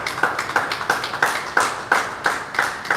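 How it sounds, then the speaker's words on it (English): Audience at a live business event clapping in steady unison, about three claps per second of sharp, evenly spaced hand claps with no talking. "Let us give a big round of applause to Mr. Alex, to Papa Alex."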